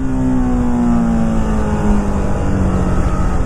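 A BMW G310 RR motorcycle cruises along a highway, its engine holding a steady, loud drone with a sustained tone and constant wind roar, no voices.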